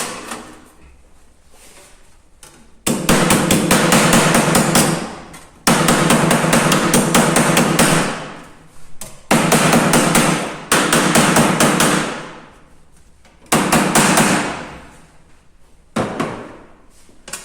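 A sheet metal blank for a household dustpan is hammered flat in loud, rapid bursts of blows, four long runs with shorter ones near the end, separated by quiet pauses.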